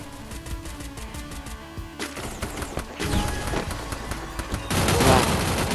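Shots from an M500 gun in the video game Free Fire ring out repeatedly, some spaced and some in quick bursts, growing louder and denser toward the end, with brief talk between them.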